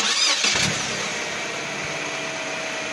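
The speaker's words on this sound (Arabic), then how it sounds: "سيارة" A car engine cranks and catches in a brief burst at the start, then drops away under a steady backing of children's song music.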